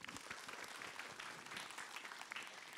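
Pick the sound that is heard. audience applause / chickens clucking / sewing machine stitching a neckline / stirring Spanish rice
audience applause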